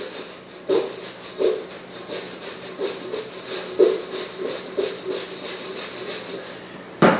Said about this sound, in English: Now, just want to shake the spice mix to coat the tofu.